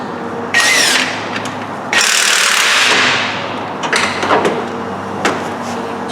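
A socket wrench works loose the balancer bolt on a Jeep 4.7 engine: loud close rasping bursts of ratcheting and turning, then a quieter stretch of short clicks and scrapes.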